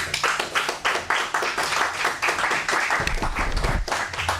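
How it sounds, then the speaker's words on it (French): A church congregation claps during a Sunday service, a fairly soft, rhythmic patter of hands that continues steadily, with a low murmur joining partway through. "Applaudissez pour la mère de Dieu."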